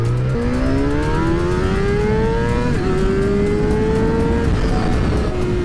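A Suzuki GSX-R600 sport motorcycle engine, capable of revving to 15,500 RPM, screams steadily higher as the throttle is held open. The loud, continuous whine rises in pitch, with a brief dip partway through, and no voices are heard.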